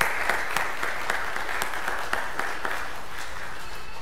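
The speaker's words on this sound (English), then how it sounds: "let's give us a hand of applause to our team of VBS" A church congregation applauds its Vacation Bible School teachers, a steady spread of clapping with a few sharp claps standing out in a loose, fairly even rhythm throughout.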